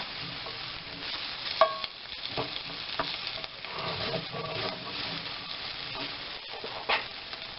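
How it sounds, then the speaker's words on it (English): Flour stirred into a pan and cooking slowly over a low gas flame, giving a steady soft sizzle with scraping spoon strokes and a few light clicks throughout. "I'm going to mix in our flour, and we're going to cook this again slowly"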